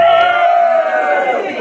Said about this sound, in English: Cheer if you think Matt's the alpha male.